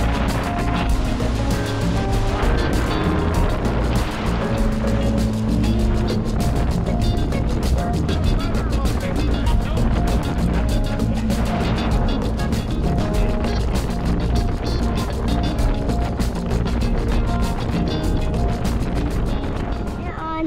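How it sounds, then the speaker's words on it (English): A Yamaha 195 FSH jet boat engine roars steadily at close range throughout, loud and continuous, with wind and water noise over it. "We're taking out the jet boat today."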